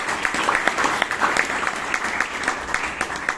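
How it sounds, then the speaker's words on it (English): Audience at a Bangalore Toastmasters meeting breaks into steady, dense applause, many hands clapping together at an even level throughout with no break. "Please give a big round of applause"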